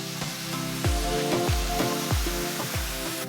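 Vegetable fried rice with corn, overnight rice and soy sauce sautéing in a hot pan, a continuous close sizzle broken by repeated swooshing tosses or stirs roughly every half second.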